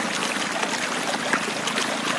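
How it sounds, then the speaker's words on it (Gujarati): A stream of water in the wild flows with a continuous broadband rush and trickle, steady and fairly close, with no voices. "અહીં જોઈ રહ્યા છો તમે દર્શક મિત્રો કે આપણને ઝરણું મળી ગયું છે"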